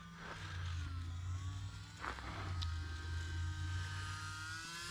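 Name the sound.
E-flite UMX Carbon Cub SS RC model plane flying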